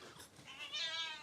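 A cat meows faintly, giving one soft drawn-out mew near the end over a quiet, hushed background.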